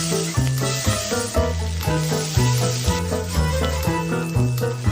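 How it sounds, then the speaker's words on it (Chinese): Steak pan-frying at a roadside stall, with a continuous close sizzle under a steady, rhythmic tonal background, no talking. "西餐厅前主厨竟然在路边给我们煎牛排"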